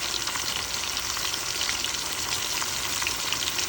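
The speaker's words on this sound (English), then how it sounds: "Let it saute." Pork sizzles and sautés steadily in a pot for a pot roast, a dense, even frying hiss that stays loud and close throughout with no talking.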